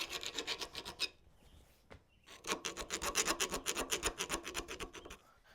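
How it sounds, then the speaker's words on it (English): A file works the eye of a handmade hammer head, rounding an inside corner, in steady back-and-forth rasping strokes. A pause of about a second and a half breaks the strokes before a faster, continuous run follows, close and alone. "I need to clean the eye up a little bit with a file and radius this inside corner right here."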